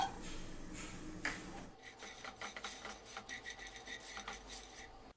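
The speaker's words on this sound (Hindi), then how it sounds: "अब हम एक नॉनस्टिक पैन गरम करेंगे और उसमें मूंगफली डाल के उसको ड्राई रोस्ट करेंगे।" Peanuts are dry roasted in a nonstick pan, giving a soft scraping and rattling as the nuts are stirred and shuffled against the pan in uneven, fairly quiet strokes with no talk.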